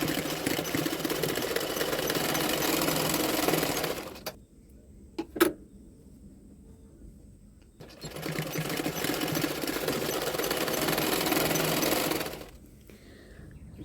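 A sewing machine stitches the shoulder seam of a double katori blouse in two long, loud, steady runs, each roughly four seconds. A quiet pause between them holds a click or two.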